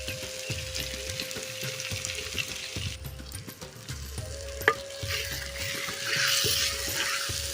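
Turkey berries (sundakkai) fry in oil in a pan, giving a steady close sizzle. A spoon stirs them in regular scraping strokes, and the frying grows a little louder toward the end.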